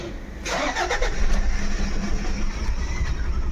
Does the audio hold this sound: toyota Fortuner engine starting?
yes